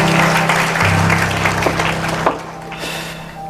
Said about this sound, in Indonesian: Tepuk tangan untuk kebenaran ini.